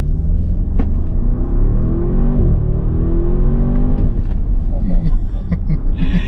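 A 2022 Bentley Bentayga S SUV drives along, its low engine rumble and road noise rising and falling as it accelerates, with people talking inside the cabin over it.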